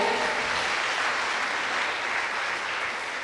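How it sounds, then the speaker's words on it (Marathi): Steady, enthusiastic applause from a crowd fills the whole stretch without pause. "आजच्या पाहुण्या आहारतज्ञ जोरदार टाळ्या होऊ देत"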